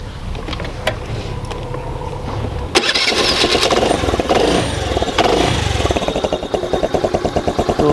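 A motorcycle with its air suction valve's fresh-air pipe removed cranks with a rough starter whir, then catches and settles into a loud, close, pulsing idle.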